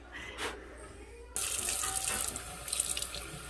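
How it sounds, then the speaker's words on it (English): A kitchen tap turns on and runs steadily over fresh cilantro being rinsed in the sink, a close, full rush of water that starts abruptly partway through and continues to the end. "Wash in some cilantro."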